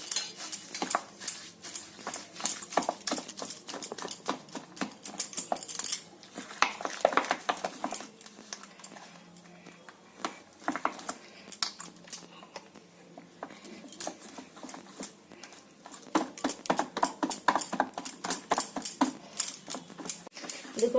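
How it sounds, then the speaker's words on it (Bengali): Batter for pithe puli is whisked in a bowl with a hand tool, producing continuous rapid clinking and tapping against the bowl in quick, steady bursts over about twenty seconds, with brief pauses and no talking. "এবার এটাকে ভালো করে এটা দিয়ে ফেটিয়ে নেবো"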